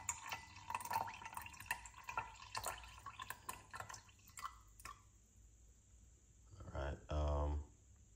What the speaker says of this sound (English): we're going to put some water inside of it